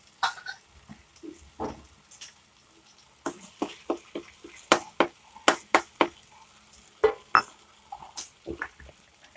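Ground masala for modak aamti, a traditional Ganesh festival curry, fries in oil in a pan, heard as a soft steady sizzle broken by many sharp, close clicks and scrapes of stirring at an irregular pace.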